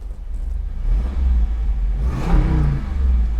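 A 2022 Jeep Wrangler Rubicon 392 V8 with its variable exhaust valves closed revs up from a low idle rumble into a deeper, muffled roar, then settles back to a steady throaty burble.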